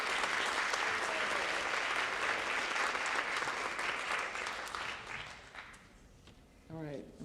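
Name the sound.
audience applauding teams at a quiz competition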